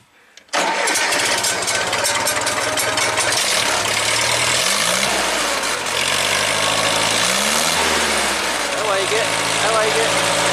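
A 1975 International 574 tractor engine, just after a carburetor rebuild, fires up and settles into a loud, steady idle with a couple of brief throttle rises, heard close and continuous.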